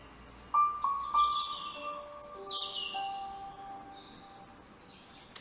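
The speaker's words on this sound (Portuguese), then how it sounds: "Enquanto você ouve os pássaros" Birds singing, several clear whistled notes and chirps at moderate distance over a quiet background, with short pauses between calls.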